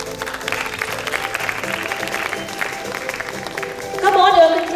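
Applause from a conference audience at a tech summit in Goa as a speaker is called on stage, moderate clapping with music underneath that grows slightly louder toward the end.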